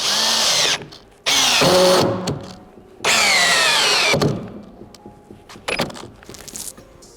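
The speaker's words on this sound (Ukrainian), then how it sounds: "Так, давайте першу швидкість. Ні, давайте давайте другу. Пробуємо. Е, дуже швидкий." A Dnipro-M CD-218 cordless drill driving a screw into wood on second speed whines loudly in three long bursts, the motor pitch straining under load, followed by short clicks and taps of handling, close and alone.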